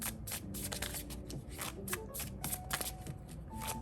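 Tarot cards are shuffled by hand, producing a dense, close run of riffling flicks and soft slaps that carries on steadily without pause.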